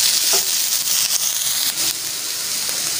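Chopped capsicum and vegetables stir-frying for veg chow mein, a steady loud sizzle with faint stirring scrapes running through the whole stretch, no talk.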